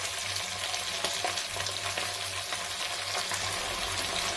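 Onions and mutton sauté with ground masala in hot oil in a pan, giving a steady close sizzle with scraping stirring strokes throughout, moderately loud and without talk.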